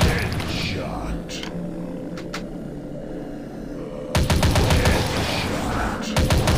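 Rapid gunfire in the mobile shooter Dead Target, dense rattling bursts with a heavier volley in the latter half, while an announcer-style game voice calls out over the shooting.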